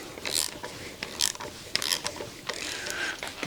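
A ratchet wrench works on a 1983 Chevrolet K10's 350 engine during teardown, giving several short bursts of sharp metallic clicking separated by brief pauses, close and fairly loud, with no talk.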